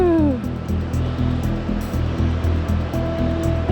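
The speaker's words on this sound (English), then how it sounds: "There's the Eagle River." Rushing water of the Eagle River in Oregon near a waterfall, a continuous loud churning roar heard close by, with faint rhythmic thumps and a brief whistle-like tone over it.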